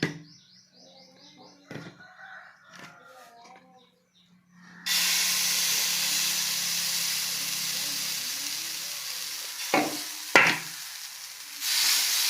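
Nutritious multigrain flour dosa frying on a hot pan, a steady broad sizzle rising suddenly after a quiet start with faint clinks, then continuing loud and even with a couple of sharp knocks near the end.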